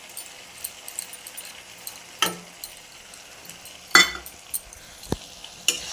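Spice paste with cashew, melon seed and poppy seed pastes being stirred in oil for a paneer dish: sparse scraping and clinking of a spatula against the pan, with a few sharper knocks over a faint sizzle.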